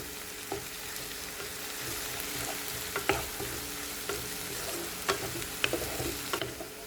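Black chicken curry with onions frying on a high flame, a steady dense sizzle with occasional clicks and scrapes of stirring, close and continuous with no talk.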